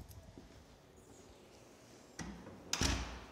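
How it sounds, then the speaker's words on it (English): A car door is shut hard, a sharp loud thump near the end, preceded by a softer knock, against quiet outdoor background. "let's make the door loud so in case they want to start a fight"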